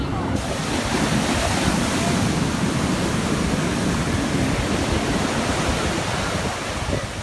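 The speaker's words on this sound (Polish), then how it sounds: "Zobaczcie jakie, jakie fale." Ocean surf at Copacabana beach in Rio de Janeiro, Brazil, makes a loud, continuous broadband roar of breaking waves, with wind buffeting the microphone.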